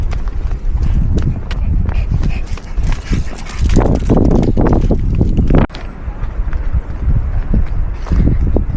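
Strong gusting wind by a pond buffets the microphone with a loud, rumbling roar, while a person talks over it.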